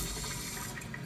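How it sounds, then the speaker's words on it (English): Tap water pours from a faucet on a Kangen K8 water machine setup, a steady close splashing rush at moderate level with no voices. "We have tap water."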